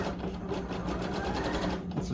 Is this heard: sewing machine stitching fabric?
yes